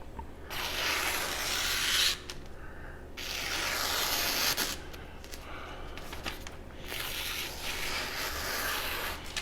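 Knife edge drawn across an 8000 grit whetstone for burr removal, long gritty scraping strokes in a few sustained passes with brief pauses, close and fairly loud, no talking.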